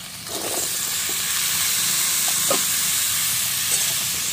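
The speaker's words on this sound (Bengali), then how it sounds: "আমার চিংড়ি মাছ ভাজা হয়ে গেছে, আমি এবার চাল কুমড়োটা দিয়ে দেবো।" Chopped ash gourd goes into a pan of sizzling fried shrimp, raising a steady close crackle with brief stirring scrapes and clatters over the continuous frying hiss.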